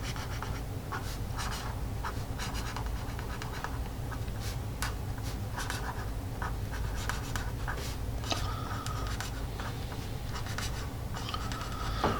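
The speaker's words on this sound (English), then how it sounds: "You've got felt going across paper" A Flair felt tip pen writing across paper, making continuous close scratchy strokes with a steady stream of short ticks and scrapes, with no other sound.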